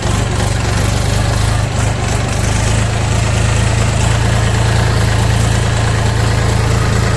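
A Dongfeng 244 DHX minitractor engine runs steadily in third gear, a loud close diesel drone with a strong low hum and even rhythm throughout.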